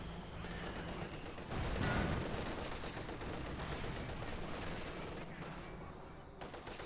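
Gunfire and explosions in the real-time strategy game Company of Heroes 2 during a 1v1 match, with dense rattling shots and a heavier blast building midway over a continuous battle din.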